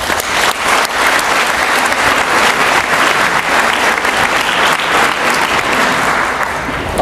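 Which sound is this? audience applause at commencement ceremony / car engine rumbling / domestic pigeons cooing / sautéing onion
audience applause at commencement ceremony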